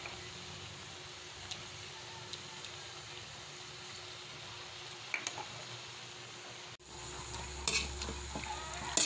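Chicken afritada cooking in a pan, a soft steady simmering sizzle with occasional light clicks of a stirring utensil, growing louder and fuller in the final seconds.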